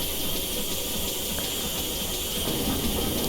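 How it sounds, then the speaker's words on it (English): The safety valve on a GWR Small Prairie 2-6-2T steam locomotive in Train Simulator Classic blows off in a steady, loud hiss. The hiss runs unbroken over a low rumble of the engine. "Here's our safety valve."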